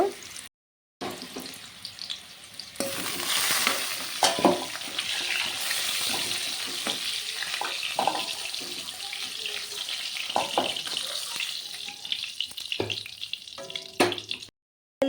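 Food frying in oil in a pan on a home kitchen stove, a steady crackling sizzle that runs close and continuous, with brief clatters of stirring and no talk.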